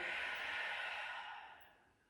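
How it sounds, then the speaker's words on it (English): A single slow exhale is released through the mouth during a calm yoga breathing practice, a soft airy breath that starts full and gradually fades away. "And release through the mouth on the exhale."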